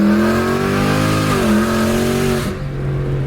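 A tuned, naturally aspirated, full-bolt-on car called Hades pulls hard in second gear, its engine roaring loud and rising in pitch before a shift drops the note at the end, close and unbroken.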